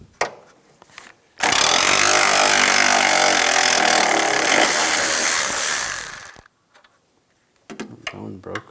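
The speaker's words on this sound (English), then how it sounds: "Using a 10mm socket, take all these bolts out." A power tool, likely an impact or ratchet driver with a 10mm socket, whirs loudly and continuously for about five seconds as it backs bolts out on a Toyota Prius, then cuts off, leaving quieter clicks and handling noise.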